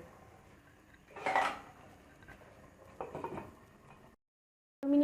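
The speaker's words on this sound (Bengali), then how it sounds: "এখন আমি ঢেকে দিব প্রায় 15 মিনিটের জন্য।" A lid set over a cooking pot of bhuna khichuri, with a couple of brief metallic clinks and clatters close by, a short silence, then one more sharp clank.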